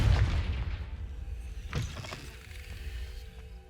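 A Confringo fire spell explodes in Hogwarts Legacy, a heavy booming blast up front followed by a second sharper burst and rumbling debris that fades out.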